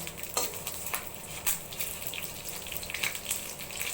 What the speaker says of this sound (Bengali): সেই তেলে আমি মেথি আর গোটা তেজপাতা দুটো দিয়ে ভালো করে ভেজে নেব।